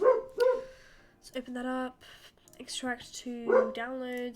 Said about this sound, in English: That's my dog, if you can hear him.